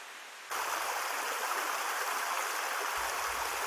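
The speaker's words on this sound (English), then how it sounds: "we can follow the creek to where it takes a plunge in the depths." Creek rushing through the Australian bush near where it drops into a waterfall, a steady broadband roar of flowing water that switches on abruptly and then holds evenly, close and with no talk over it.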